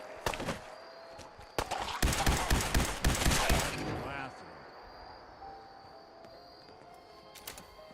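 Video game gunfire rattles off in a dense burst of rapid shots near the start, then gives way to a lower background din and a few scattered, fainter pops.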